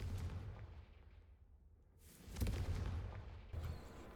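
A Confringo blasting spell is cast in Hogwarts Legacy, heard as soft, muffled booms and rumbling impacts, with one stronger burst midway and a shorter one near the end.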